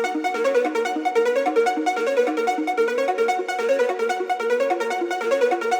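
Several Serum synth plucks layered together into a bright, busy melodic pattern of rapid notes, steady and fairly loud with no bass underneath, alone without any voice.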